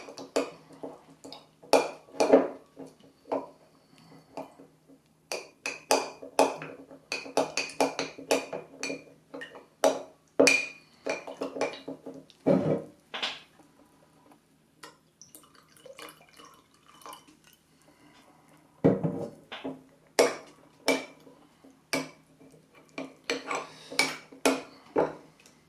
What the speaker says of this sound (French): Et je vais mélanger pour diluer le miel.